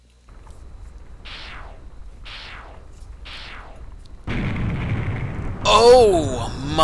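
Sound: explosion in the video game 6 Days a Sacrifice

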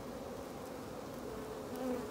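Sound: honeybees buzzing as virgin queen attacks queen cell

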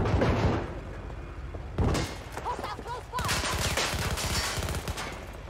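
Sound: gunfire from video game Battlefield 2042

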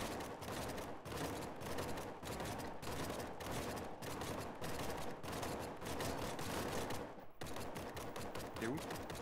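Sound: gunfire from an enemy shooter in the video game The Front

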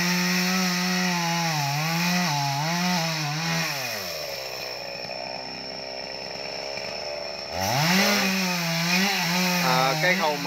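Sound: chainsaw cutting a tree

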